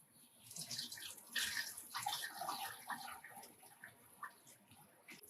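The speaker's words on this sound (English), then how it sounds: "So we're just washing the rice until the water is very clear." Rice is swished and rinsed by hand in a bowl of water the Philippine way, producing faint, steady sloshing and trickling close by with no talk.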